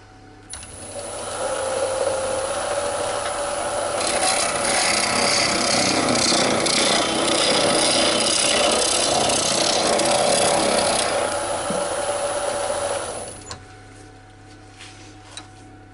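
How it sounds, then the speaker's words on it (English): Boxwood box being turned on a lathe with sharp tools, a steady loud scraping cut that runs for about nine seconds over the hum of the spinning lathe, then stops as the motor keeps humming. "Boxwood cuts beautifully, as long as your tools are nice and sharp"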